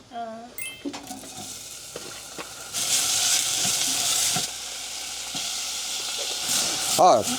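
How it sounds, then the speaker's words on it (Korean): Ragu sauce for lasagna sizzles and fries in a pan, with occasional stirring and utensil clinks, steady hiss through most of the clip. "라구 소스를 먼저 끓일게요"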